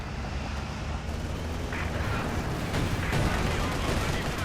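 Tank battle in Company of Heroes 2 with a Panther and an IS-2 trading fire: dense booming gunfire and explosions roll continuously over a rumbling battlefield din, loud and close, with no clear speech.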